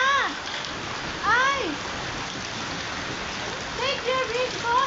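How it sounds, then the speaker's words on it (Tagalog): Hail falling during a storm in Iraq makes a continuous dense patter, with a few short vocal sounds rising over it now and then. "Umuulan din pala ng yelo dito."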